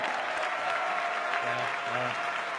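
Applause for a team's coach at the Dota 2 Boston Major grand final, a steady dense wash of clapping from a large crowd, fairly distant and even throughout with a faint tonal hum beneath.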